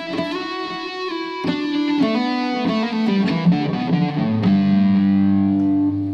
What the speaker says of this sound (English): When I want to get distortion